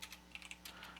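Light, quick keystrokes on a computer keyboard, a handful of soft clicks in an irregular patter, faint and close, with no talk.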